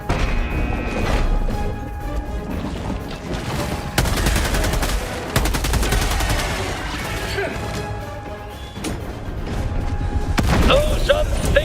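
Rapid gunfire bursts and heavy impacts from a Helldivers 2 bug battle, dense and loud throughout with crashes and booms layered over a busy game soundscape.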